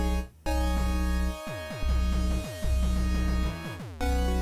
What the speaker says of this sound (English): we'll start with a kick. I usually start with the kick on duty 1